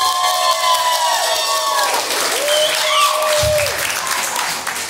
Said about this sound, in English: So, round of applause for everybody.